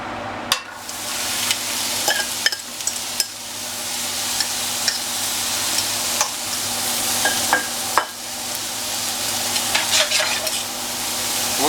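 Vidalia onions, green peppers and mushrooms fry in a pan, a dense continuous sizzle close up with periodic scrapes and clacks of a utensil stirring, and no talking.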